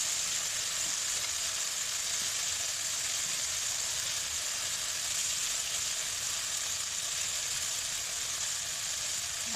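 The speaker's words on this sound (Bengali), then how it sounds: "মশলার সাথে ডিম কষিয়ে নেব।" Eggs sizzle steadily while sautéing in spice paste in a pan, a continuous, even frying hiss with a faint low rumble beneath, close and unbroken throughout.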